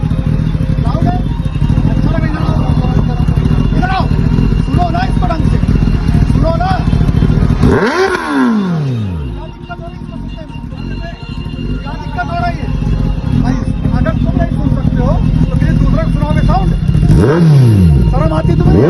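Sports motorcycles rev loudly at a police checkpoint during Holi, engines roaring steadily with two rising, sweeping passes, under constant talk and crowd noise.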